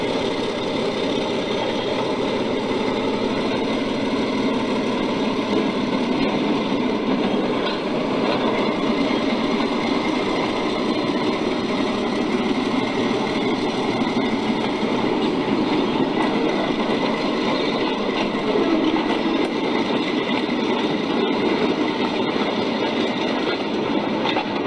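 A model RS3 diesel locomotive hums and rumbles steadily while pulling a short train on a layout, with faint rhythmic clicking of wheels over track throughout.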